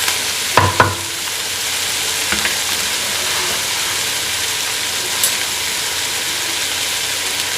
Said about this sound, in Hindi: अब हमने मटन को अच्छी तरह फ्राई करना है इस ऑयल में, प्याज के